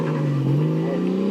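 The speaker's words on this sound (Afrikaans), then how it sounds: "Klink soos 'n Skyline motor wat daar ingebou is." A car engine, sounding like a Nissan Skyline engine, revs up, its pitch rising steadily in a short, loud burst, heard close by.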